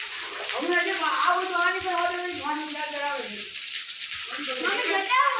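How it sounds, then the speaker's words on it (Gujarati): Rain pours down steadily in an outdoor monsoon shower, a loud, continuous hiss and splash close at hand, with a person talking over it throughout. "એ આવી ગયો વરસાદ આવી ગયો"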